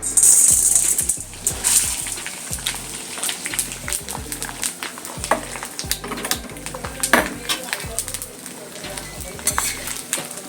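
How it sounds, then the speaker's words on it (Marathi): Edible gum (dink) frying in ghee in a pan for dry-fruit laddoos, a busy crackling sizzle with scraping stirs, a rhythmic low thumping underneath, and a voice talking over it. "आधी डिंक तळून घेऊया आपण"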